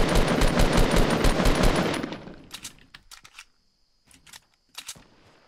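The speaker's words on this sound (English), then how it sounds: "Trent, we gotta try and shoot that wall while he's doing that" Rapid gunfire bursts in the Fortnite Battle Royale video game, a loud fast string of shots for two seconds, then sparser scattered shots further off.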